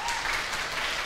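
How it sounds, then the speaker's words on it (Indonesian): A congregation claps together at a Sunday church service, a dense, steady round of applause that fills the whole short moment. "Beri tepuk tangan untuk kita semua."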